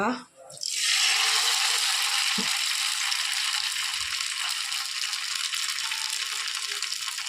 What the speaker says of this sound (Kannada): ಈಗ ನಾವು ಮ್ಯಾರಿನೇಟ್ ಮಾಡಿಟ್ಟಂತಹ ಮೀನನ್ನು ಹಾಕುವ ಅದಕ್ಕೆ ಫ್ರೈಗಿಡುವ